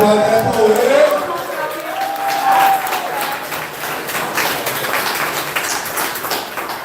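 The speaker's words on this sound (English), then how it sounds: "Applaud that poet." An audience applauds a poet at a Southern Fried Poetry Slam bout, a steady wash of clapping and crowd noise running throughout under a host's voice calling out scores.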